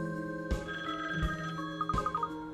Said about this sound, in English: Oh, that's the phone.